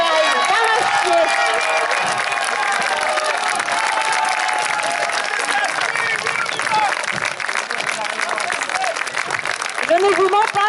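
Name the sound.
audience applauding and cheering at a parade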